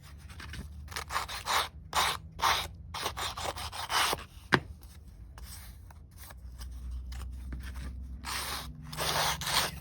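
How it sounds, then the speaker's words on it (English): Repeated rough scratchy rubbing strokes of sandpaper grating on paper, close and fairly loud, in uneven bursts with brief pauses between. "if you don't like the sound of sandpaper grating on paper"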